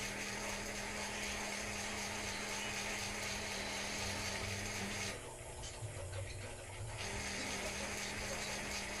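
A noisy ceiling fan running indoors, giving a steady whirring, rattling mechanical drone that stays constant and fairly faint, with a brief dip in the noise partway through and no talk.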